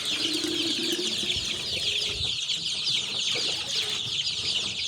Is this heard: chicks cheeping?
yes